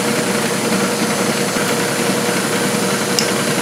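Tapmatic tapping head running on a milling machine during a tapping operation, a loud, steady mechanical whir and grinding drone close up, with a faint tick near the end.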